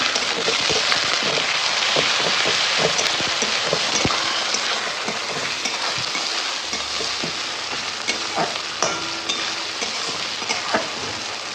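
Onions sizzle and fry with ginger-garlic paste in a pan for a mutton dish, a steady hissing crackle with occasional stirring scrapes and no voices.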